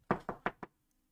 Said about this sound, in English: I knocked on my wall here, and he heard me.